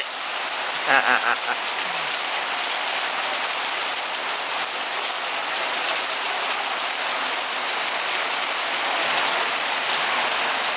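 Steady heavy rain pours down continuously, a dense hiss throughout with a few faint voices briefly near the start.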